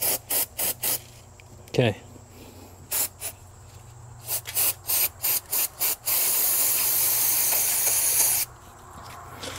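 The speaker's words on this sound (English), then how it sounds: "Make sure you're using non-chlorinated brake cleaner." Non-chlorinated brake cleaner sprays onto greasy engine parts around the oil filter housing of a BMW E82 135i. Quick loud hissing bursts lead into one long continuous spray, with a single brief spoken word.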